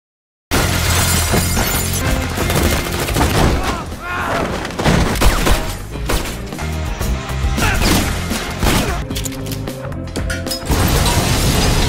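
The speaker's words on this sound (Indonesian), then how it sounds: "Ketika baku tembak terjadi begitu sengit" Intense shootout from an action film, dense bursts of gunfire mixed with shattering glass, crashes and booms, continuous and loud across the scene.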